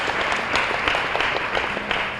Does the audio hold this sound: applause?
yes